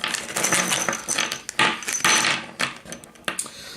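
Metal bolts for a lifted Dodge Ram interior trim panel build being handled, a quick series of close clinks and rattles as the hardware is sorted and shifted, with no voices.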